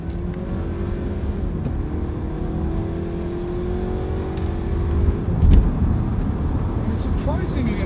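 A 2019 Audi A4 with its gearbox in sports mode drives along, a steady engine drone and road rumble running under continuous talk, with a brief surge in engine noise about two-thirds through.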